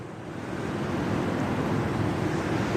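River water flowing near a trail by a dam, a continuous broad rushing wash that swells slightly at the start and then holds steady, with no talk.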